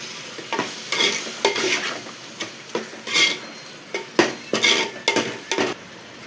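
Chicken biryani masala of yogurt, tomato and spices being sautéed in a pot, with a spoon stirring and scraping in irregular strokes over a steady close sizzle, no talking.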